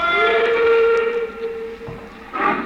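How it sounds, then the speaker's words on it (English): A steam train whistle sounds in a radio drama scene of a train pulling away from an embankment, a long, clear tonal blast that fades, followed by rumbling and a hiss of steam. "I stood there on the embankment as the train pulled away"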